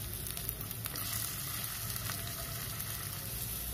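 Diced potatoes sizzling and frying in a pan as the first step of oats upma, a steady crackling hiss close up and continuous with no voices.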